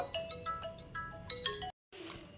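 A phone ringtone plays alone as a bright, rhythmic electronic melody, fairly faint, then cuts off abruptly before a brief quiet tail.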